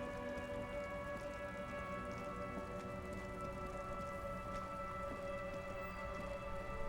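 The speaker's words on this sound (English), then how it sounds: "Stuck in the rain in a traffic jam, man." Rain in the video game Disco Elysium, heard as a steady, dense hiss of falling rain with faint sustained tonal drones from the game's ambience, continuous and even, with no voices.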